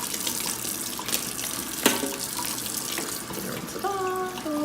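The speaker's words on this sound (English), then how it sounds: "I'm going to turn the water on." Kitchen tap water runs steadily into a sink to rinse a raw packaged chicken, a continuous broadband splashing hiss with a brief louder splash partway through, close and moderately loud.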